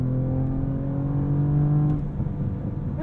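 A 2023 Audi S7 Sport S V6 engine accelerates, a loud steady rising drone heard from inside the car that drops away and eases off after about two seconds.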